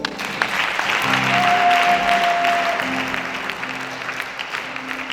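A church congregation at a Sunday worship service breaks into sustained clapping, a full room of applause swelling and then thinning out, with voices and a brief tone heard under it.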